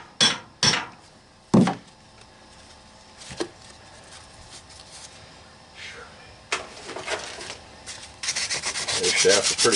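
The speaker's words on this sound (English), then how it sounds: "This shaft is pretty rusty, so we'll sand it down just a hair" A rusty shaft on an electric motor being scrapped is sanded, with a few sharp knocks first, then scratchy rubbing strokes that grow louder and more continuous toward the end, close by.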